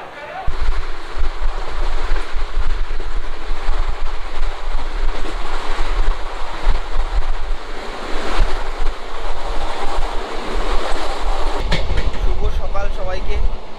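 The 12333 Vibhuti Express rolls from Howrah toward Varanasi with a loud, continuous rumble and rattle of carriages, wheels clacking steadily over the rails and wind rushing past.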